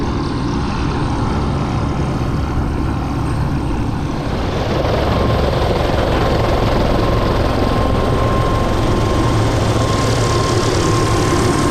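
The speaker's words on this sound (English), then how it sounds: "Back in the chopper now." A helicopter engine runs loudly and steadily close by, a continuous heavy rumble with a rising whine that grows a little stronger midway and never stops.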